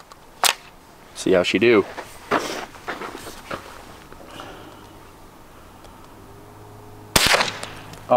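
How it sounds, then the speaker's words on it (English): A brand-new rifle fired for the first time, a few sharp, quiet cracks spaced apart, with someone talking between shots and handling noises in the background. "So let's shoot it, see how she does. 12 in there. First shot ever, new rifle."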